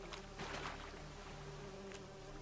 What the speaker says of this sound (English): I can hear like some mosquito fly sounds